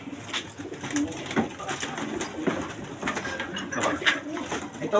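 Several pigeons coo repeatedly at close range in a loft, soft throaty calls overlapping one another over faint rustling, with a bit of quiet talk in the background.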